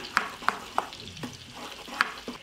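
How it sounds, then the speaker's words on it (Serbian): Sweet ground paprika and flour stirred and fried in a pan, sharp spoon clicks against the pan at an uneven rhythm over a soft sizzle, no talk. "i odmah ćemo promešati i propržiti 20 sekundi"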